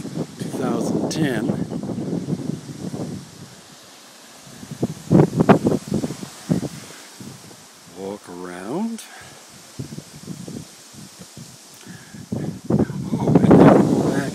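Wind blows and buffets the microphone outdoors as a person talks over it, with gusts rising and falling.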